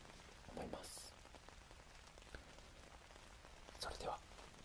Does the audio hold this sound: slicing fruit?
no